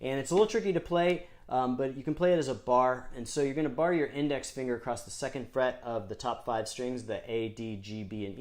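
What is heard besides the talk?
None of the usual background noises is heard.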